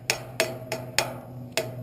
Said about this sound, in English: I just use a little ball peen hammer to do these